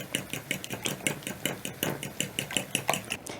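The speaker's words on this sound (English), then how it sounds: "And then I'm going to whisk." Fresh eggs whisked briskly in a bowl for a noodles-and-eggs lunch, a fast regular ticking of the whisk tapping and scraping the sides, close and steady with no voices.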